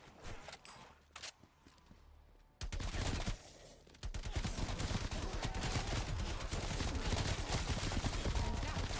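Rapid assault rifle fire in a video game, dense bursts of loud shots that continue almost without pause, with a brief lull and a few scattered footstep-like impacts early on.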